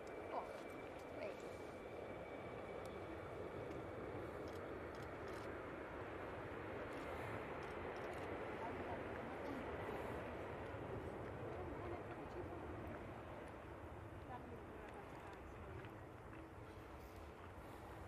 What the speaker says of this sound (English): That's a Emirates 777 going over